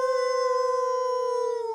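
A single dog's sustained howl rings out as one steady, clear, tonal wail that holds its pitch throughout, then drops slightly at the end. It is loud and close, with no talk.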